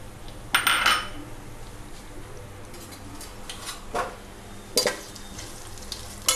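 Almonds, pistachios and raisins fry lightly in a pan over a low flame with a soft, quiet sizzle, broken by a few sharp clinks of a utensil against the pan.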